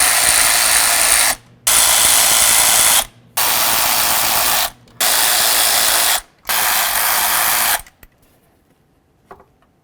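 A ratchet wrench loosens the intake manifold mounting bolts on a 1998–2012 Ford Crown Victoria, five loud, close bursts of rapid clicking separated by short pauses, then near silence with a faint tap.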